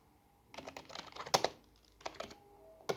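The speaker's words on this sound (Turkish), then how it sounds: "Şimdi hemen klavye testini yapıyorum." Bursts of computer keyboard typing, close and crisp, with clustered keystrokes separated by short pauses in an otherwise quiet room.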